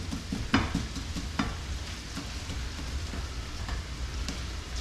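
Frozen diced onions frying in a pan, a steady sizzle and crackle with a few sharper clicks and stirring scrapes near the start, continuous and close with no talking.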